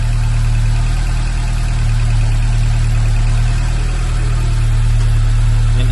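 A BMW 2002 tii, turquoise and in as-new condition, idles after a cold start with a steady, continuous low engine hum and a smooth, even rumble that stays level for several seconds, with no voices over it.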